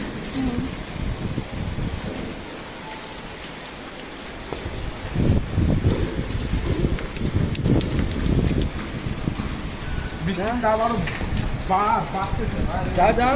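Rain patters steadily on a garden where water pools around rose plants, with some wind rumble, while a voice talks over it in the second half.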